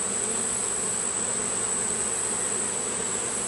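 Honeybees buzz as a steady, dense drone while a hive is opened for inspection, with a constant swarm hum and a high whine running through it and no talk.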